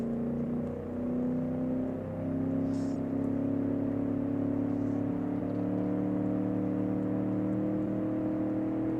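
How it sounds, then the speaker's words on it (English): A video game 1980s car engine with dual exhaust drones steadily with layered harmonic hum, pitch shifting slightly as it revs, rumbling and continuous without any talking. "this thing sounds so much nicer and meaner. Oh, the dual exhaust."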